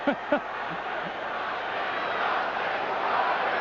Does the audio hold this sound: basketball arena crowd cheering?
yes